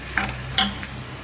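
Mutton is stirred with mutton masala in a pan, giving two or three brief scraping strokes over a soft background sizzle, close and clear with no talk.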